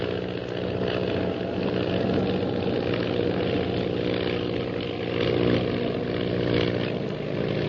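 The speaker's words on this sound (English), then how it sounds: "Shanghai Lil continues her attempt to escape her pursuer by stunting her plane." A propeller plane engine drones steadily and loudly throughout, its pitch and intensity shifting slightly as the aircraft maneuvers.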